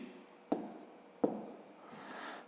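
A pen writes numbers on paper while working a fifth-grade math exercise, with close, soft scratching strokes and two sharp taps as the pen meets the page, quiet and without any talking.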